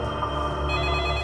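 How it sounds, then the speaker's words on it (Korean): A telephone rings steadily with an incoming call, a continuous electronic trill heard alone at moderate volume. "이때 강도창에게 한 통의 전화가 옵니다"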